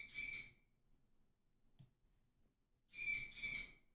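A pet bird indoors gives loud, shrill squawks, one burst at the start and a double burst near the end, piercing and close, with a quiet room and a faint knock between.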